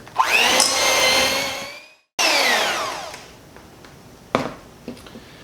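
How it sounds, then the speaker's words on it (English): Electric beater creaming butter and sugar, a loud whining motor in two bursts that rises then winds down, briefly cut off between them, followed by a few knocks. "now I'm gonna cream these together, which I'm gonna use my beater, kind of get it nice and frothy"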